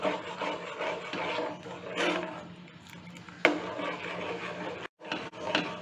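A spoon stirs a thickening fruit salad mixture in a pan, made without custard powder, giving continuous scraping and rubbing strokes close up, fairly quiet, with a brief sharp knock and a short gap partway through.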